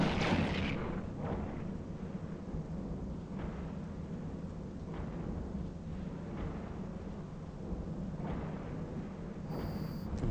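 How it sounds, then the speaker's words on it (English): Spaceship weapons fire repeatedly at a target during mining in Eve Online, a steady run of heavy booming shots that rolls on without a break for the whole stretch. "now we can shoot at him while we're still mining"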